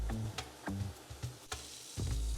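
Bacon and mushrooms fry in a pan for burgers, a soft, close sizzle broken by several short bursts of stirring or shifting food, fairly quiet.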